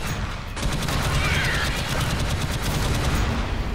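Turret fire in the video game Alien Swarm rattles out as a dense, rapid automatic burst, loud and sustained for several seconds.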